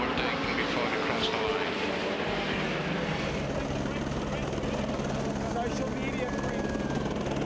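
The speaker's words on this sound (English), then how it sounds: "a helicopter ride around Le Mans to really put into perspective the scale of how big this place is." A helicopter flies over the Le Mans racing circuit, its rotor thumping and engine droning loudly and continuously, with a voice talking over it throughout.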